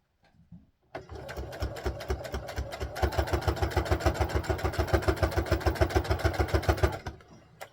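Sewing machine stitching a piece of old cotton sheeting for a doll dress, a loud, steady run of rapid needle strokes that starts after a short pause and speeds into an even, fast rhythm before stopping.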